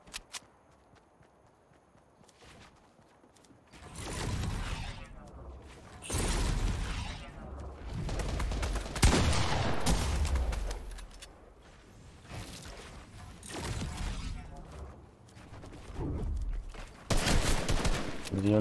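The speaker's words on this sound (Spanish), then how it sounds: "Dieron tiros, creo." Bursts of video game gunfire from a shooting match against a Wolverine character, coming in loud volleys separated by quieter gaps, with footstep-like clatter in between.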